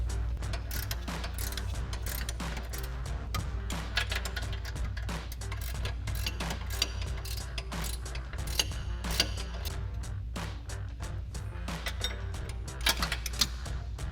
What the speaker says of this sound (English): And now we can go ahead and tighten everything down.